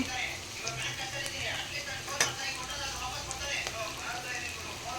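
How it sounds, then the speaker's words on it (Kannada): Ridge gourd frying in a pan over a high flame, giving a steady low sizzle broken by scattered clinks and scrapes of a spoon stirring against the metal. "ಚೆನ್ನಾಗಿ ಒಂದು 2 ನಿಮಿಷ ಫ್ರೈ ಮಾಡ್ಕೋಬೇಕು."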